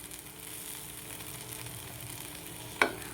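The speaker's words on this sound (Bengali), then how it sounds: "আমার তো প্রায় বড়া ভাজা হয়ে যাচ্ছে।" Cabbage fritters (bora) fry in a pan with a soft, steady sizzle and a single sharper crackle near the end, with no voices.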